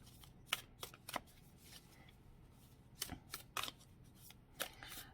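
Oracle cards from a Sacred Destiny Oracle deck riffle and slide through the hands in quick, quiet flicks and scattered taps, a close and soft shuffling with short pauses between bursts.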